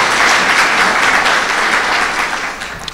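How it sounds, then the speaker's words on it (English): Loud, dense audience applause at a school event with the state governor and city mayor present, steady at first and then tapering off toward the end. "give them a round of applause."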